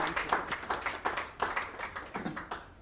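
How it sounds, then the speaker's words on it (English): An audience at a book launch claps, a quick, fairly close run of brisk, evenly spaced hand claps lasting a few seconds without any voices. "please clap for her again"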